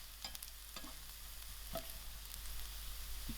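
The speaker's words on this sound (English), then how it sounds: "Before the onions brown, I'm going to add in my chilies." Onions and chilies fry and sizzle in a pan with a steady close hiss, while a utensil stirs and scrapes them in a few quick strokes; nobody talks.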